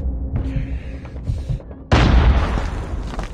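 A frag grenade goes off in a Call of Duty match: a short stretch of muffled in-game rumble and movement, then a sudden loud, close blast that lingers in a broad roaring decay for over a second.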